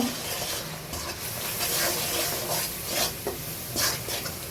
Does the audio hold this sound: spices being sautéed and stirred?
yes